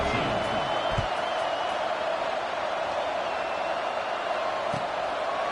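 Steady, dense crowd roar from a College Football 26 video game stadium as the kickoff approaches, filling the whole stretch at an even level with a couple of brief thuds and broadcast commentary above it.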